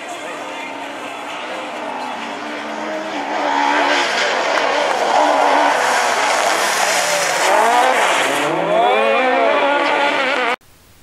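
A race car roars past at a racing competition in Châteauroux, its loud, steady engine rising in pitch through the gears with a tire squeal before cutting off abruptly, while a commentator talks over it.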